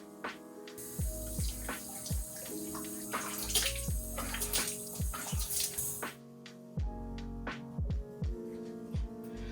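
Water runs steadily from a bathroom sink faucet during face washing, with splashing and dripping as hands scoop and rinse, a close continuous wash with irregular splashes throughout.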